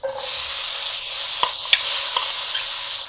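Onion fries in a mix of oil and butter in a pan for pav bhaji, a loud, even sizzle with a few sharp pops and crackles, with no voices.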